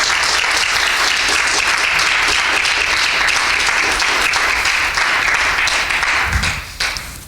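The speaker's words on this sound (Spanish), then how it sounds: "Dele un aplauso fuerte al Señor." A church congregation claps loudly for the Lord during a Spanish-language sermon, a thick continuous roar of applause at close range that holds steadily before tapering at the end.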